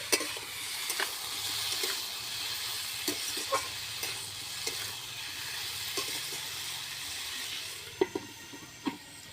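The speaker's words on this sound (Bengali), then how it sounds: "এরপরে ঢাকনাটা তুলে একটু নেড়ে চেড়ে দিচ্ছি" A village-style vegetarian curry of potato, eggplant and tomato sizzles steadily in a pan under a lid, with scattered sharp scrapes and taps as a spoon stirs it, close and fairly quiet.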